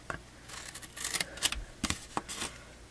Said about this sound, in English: And then I am going to cut the sides